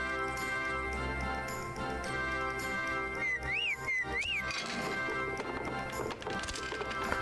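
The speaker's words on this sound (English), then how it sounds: "Oh god, I heard the chocobo whistle," A chocobo mount whistle and clopping bird-mount footsteps in Final Fantasy XIV, a brief rising whistle mid-clip with steady trotting steps over continuous game music.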